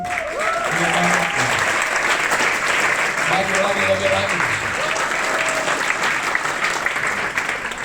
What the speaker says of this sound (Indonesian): Ini tepuk tangannya nih.